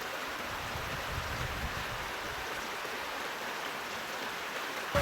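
Catawba Falls in North Carolina pours down rocks as a steady, broad rush of flowing water, close and continuous without a break, with no voices over it.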